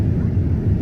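Steady low engine drone inside an airliner cabin as the plane descends toward Singapore, a constant rumble without pauses.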